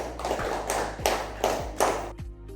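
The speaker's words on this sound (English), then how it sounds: "Give them a big round of applause" Schoolchildren in a classroom give a quiet round of applause for two classmates, heard as four short separate bursts of clapping in a loose, regular rhythm.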